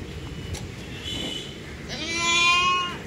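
A young goat kid bleats once, a wavering, nasal cry close by near the end, preceded by softer farmyard background noise.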